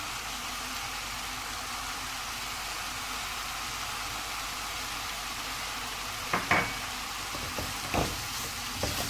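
Vegetables with green chili and coriander fry on high heat in a pan, giving a soft, steady sizzle with a few stirring clatters near the end.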